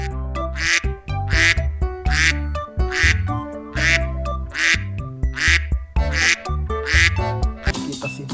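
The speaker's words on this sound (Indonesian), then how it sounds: "Wih, ada hewan bebek teman-teman." A toy duck on a toy truck quacks loudly and repeatedly in a steady rhythm of close, nasal bursts, about a dozen calls with short gaps between them and no talk.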